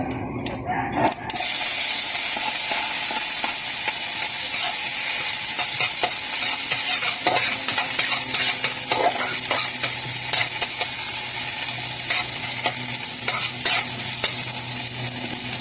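Chopped onion hits hot cooking oil in a pan for a sardine sauté, starting with a short quieter clatter and then a loud, steady, close sizzle that hisses continuously with small crackles throughout.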